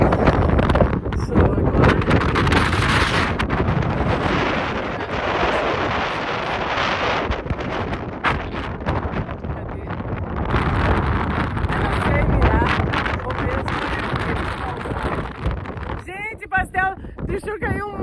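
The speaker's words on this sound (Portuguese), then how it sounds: "Que vento louco." Strong gusts buffet a phone microphone beside a lake, a loud roaring rumble that rises and falls, with a voice speaking briefly near the end as the wind eases.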